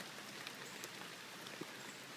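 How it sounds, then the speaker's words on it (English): Rain falling steadily outdoors, a soft even hiss of drops with a few nearer patters, faint and continuous with no talking. "We don't like this rain, do we?"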